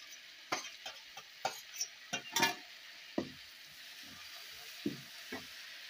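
Tomatoes frying in a pan for Maggi, with sharp spatula scrapes and taps at an irregular pace over a soft, faint sizzle, alone without talk.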